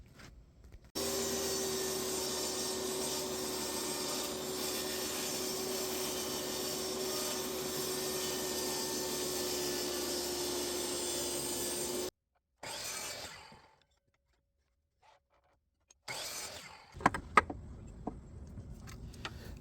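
A saw cuts half-inch-thick wood into strips for box joints, a loud continuous whine and rasp lasting about eleven seconds before stopping abruptly, followed by short bursts and scattered wooden knocks.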